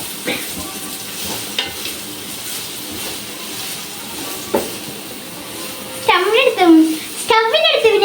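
Chicken fried rice being stirred in a hot pan on a stove, with a steady sizzle, scattered scraping knocks from the spoon, and a voice speaking loudly near the end.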